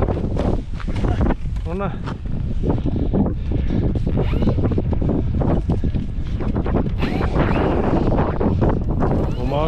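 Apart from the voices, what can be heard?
strong wind at an airfield during a model plane flight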